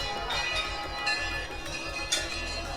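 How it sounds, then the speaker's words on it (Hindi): Temple bells and gongs ring continuously during Navratri worship, a dense metallic clangor with periodic louder strikes, steady and fairly loud with no clear talk over it. "आपकी भी आवाज आ रही है और घंटा घड़ियालों की आवाज भी आ रही है"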